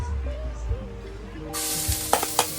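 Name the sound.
garlic sizzling as it fries in a pan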